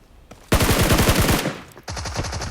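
Gunfire in the mobile game PUBG Mobile, a loud close burst of rapid automatic shots, a brief pause, then a second quick rattling burst, with no voices.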